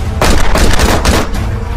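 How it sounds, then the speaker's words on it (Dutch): Rapid burst of several loud gunshots fired close by at a car bonnet, sharp cracks overlapping in quick succession. "Ik schiet op de motorkap, ik wil ze doen stoppen."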